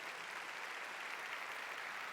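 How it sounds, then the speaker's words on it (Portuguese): An audience at a gathering applauds its team of entrepreneurs, a dense, even clapping that holds steady throughout. "Forte aplauso para a nossa equipe de empreendedores."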